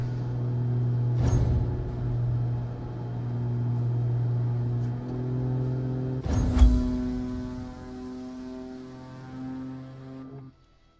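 Propeller aircraft engine idling at low RPM in Microsoft Flight Simulator 2024, a steady droning hum with two brief louder bursts, then cutting off near the end.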